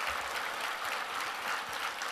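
A steady, even roar of crowd applause for the 2013 Broyles Award finalist class, sustained at moderate distance with no pauses.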